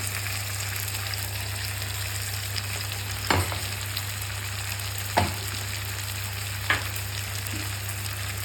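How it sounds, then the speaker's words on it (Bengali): Green chilli and mustard paste fries in oil in a pan, a continuous close sizzle under a steady low hum, broken by three sharp spatula knocks and scrapes, no talking. "এখানে যে তেলটা আছে সেই তেলের মধ্যে এটা একটু কষে নিলে"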